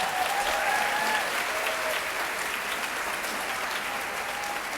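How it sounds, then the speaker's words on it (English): An audience applauds student jazz musicians at an arts center event, a steady, dense wash of clapping that holds evenly and slowly fades a little, with no talking over it. "let's give them one more round of applause as they start to pack up"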